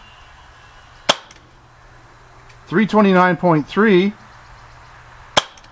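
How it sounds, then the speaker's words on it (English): Two sharp, loud pistol reports from an Umarex Makarov Ultra CO2 blowback 4.5mm BB pistol, spaced about four seconds apart, with a man reading out a chronograph velocity between them. "Very heavy blowback"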